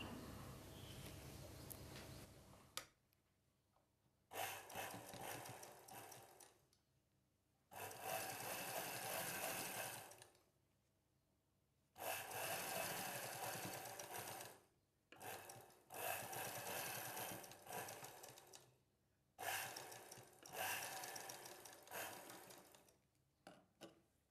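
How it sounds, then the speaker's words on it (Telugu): A sewing machine stitches a piece of a boat neck designer blouse in repeated motor-driven bursts separated by short pauses, loud and close throughout with no talk. "ఇదే విధంగా రెండవ పీస్ని ఇలా ఇక్కడ వరకు కుట్టు వేసుకోవాలి"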